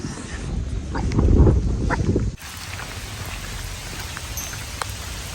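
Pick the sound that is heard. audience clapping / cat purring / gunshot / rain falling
rain falling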